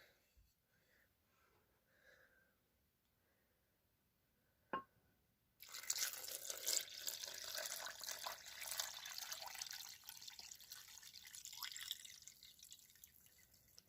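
Water poured over oats and pitted dates in a blender, a steady loud rushing pour that starts abruptly after a few quiet seconds with faint drips, and keeps going to the end without any talk.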